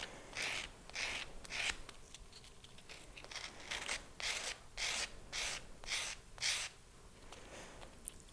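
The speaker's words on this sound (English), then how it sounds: "now I'm going to clean up the scratches made from my file with my 220/320 sanding block" Rhythmic rubbing of a 220/320 sanding block against a stacked patterned metal wire ring, a series of soft, quiet scraping strokes about every half second, close and alone.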